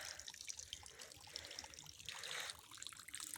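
Quiet trickling rainwater runs and patters steadily down rock at an old Murugan temple, close by and faint, with tiny drips scattered through it and no talking.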